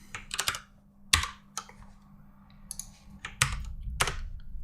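A computer keyboard is typed on up close in irregular bursts of sharp clicks and clacks, with short pauses between flurries and no talking.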